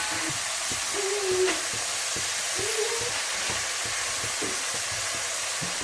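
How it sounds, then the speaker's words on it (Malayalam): Three medium onions, sliced lengthwise, sauté in hot oil in a pan while being stirred, the base for a duck curry. A constant close sizzle is broken by faint, regular scraping strokes. "അതിലേക്ക് നമ്മൾ 3 മീഡിയം സൈസ് സവോള നീളത്തിൽ അരിഞ്ഞത് ഇട്ട് കൊടുക്കുന്നു. നന്നായി ഇളക്കി കൊടുക്കാം."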